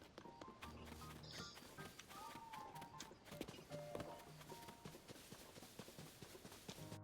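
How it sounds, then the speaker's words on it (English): Horse hooves clip-clop steadily in Zelda: Tears of the Kingdom, a quick rhythmic trot under game music and ambience, with no talking. "Okay, I'm gonna get my horse first."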